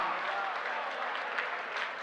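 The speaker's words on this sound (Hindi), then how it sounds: "श्रोता की ताली चाहता हूं।" Applause from an audience at a Hindi poetry performance, a steady wash of many hands clapping at once, moderately loud and even throughout with no voices over it.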